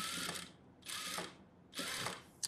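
A sewing machine stitching sleeves in a tailoring class runs in three short mechanical bursts with pauses between, each a quiet whirring clatter with no talk over it.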